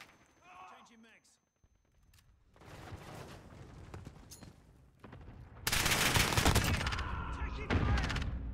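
Gunfire in the video game Call of Duty: Modern Warfare: brief game voice chatter at first, then scattered shots building into loud, sustained rapid fire near the end.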